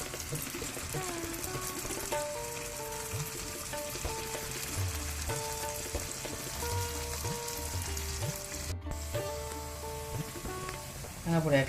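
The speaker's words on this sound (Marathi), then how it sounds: "तेल आतां तिकेशें वयर येताना फुगोनशे येतात." Mangalorean jackfruit fritters frying in hot oil on medium heat, a steady close sizzle that runs throughout under background music.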